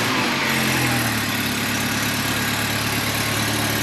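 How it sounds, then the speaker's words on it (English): A Mini Cooper JCW track car idles steadily and close up, a low, even engine drone with a slight uneven puff from a small exhaust leak, and no voices. "This wee blow in the exhaust ain't helping."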